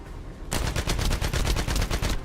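Rapid, sustained bursts of light machine gun fire in a looter shooter game, starting abruptly after a half-second lull and rattling on loud and close for nearly two seconds with no talk.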